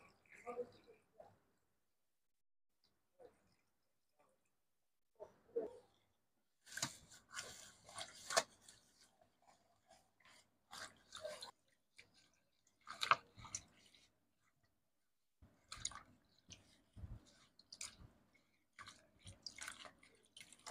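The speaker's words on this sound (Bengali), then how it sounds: "কুমড়ো পাতাগুলো আমি 3-4 বার জল দিয়ে খুব ভালো করে ধুয়ে নিয়েছি।" Pumpkin leaves are rinsed by hand in water, giving soft wet splashes, drips and squelches in irregular bursts that come and go, with quiet pauses between them.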